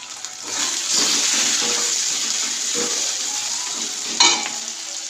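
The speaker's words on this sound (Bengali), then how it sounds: "মশলাটা এদিকে কষানো হচ্ছে" Spices sizzle and fry in a pan for a broccoli curry, a steady loud hiss with brief stirring scrapes and a sharper burst of crackle near the end.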